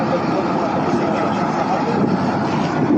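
Motor of a small migrant boat at sea, rescued offshore by a fishing vessel, running as a loud, steady low rumble and drone that fills the whole stretch without pause.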